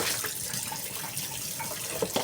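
Running tap water pours steadily over a pike-perch (zander) fillet being rinsed in a kitchen sink, a continuous close splashing hiss with a few brief louder splashes near the end.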